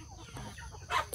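Breeding hens in a backyard coop give soft clucks and a brief louder squawk near the end, heard close against faint low background noise.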